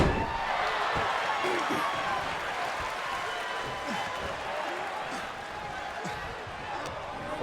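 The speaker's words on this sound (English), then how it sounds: "Corbin Cross now in the corner, just slammed into Garrett Hunt." A wrestler slams into an opponent in the corner during a main-event match at an LWE show, with thuds and impacts buried under continuous crowd noise and a commentator's voice throughout.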